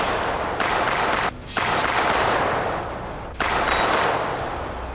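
Sustained bursts of gunfire during a special forces combat mission on a competition show, loud dense volleys with brief dips in between, no talk over it.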